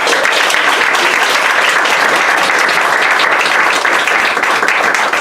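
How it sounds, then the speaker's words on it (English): A team meeting crowd bursts into loud, sustained applause, a thick wash of many hands clapping close by without pause. "give these guys a round of applause real quick."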